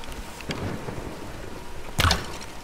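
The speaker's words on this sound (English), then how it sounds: "let's wait out the storm." Thunderstorm with rain during a storm, heard as a steady wash of rain with a low rumble and a sharp, loud crack of thunder partway through, no talking.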